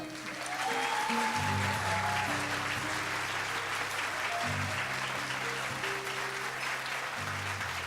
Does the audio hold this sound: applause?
yes